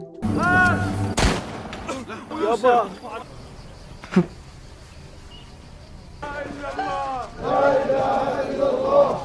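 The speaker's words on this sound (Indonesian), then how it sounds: "penjaga camp langsung menembak ketika mereka datang" Gunfire in a film scene where camp guards open fire on arriving people: a sharp, loud shot rings out, followed by a fainter second report, with voices speaking before and after.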